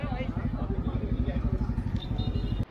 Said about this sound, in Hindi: सारी गाड़ियाँ निकल रही हैं अब राइड के लिए,